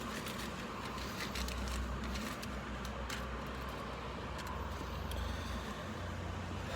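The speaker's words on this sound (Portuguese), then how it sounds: "Desculpa pela questão do barulho dos carros" Car traffic rumbles steadily beside a pharmacy parking lot, a continuous low roadway drone with passing vehicles and no talk.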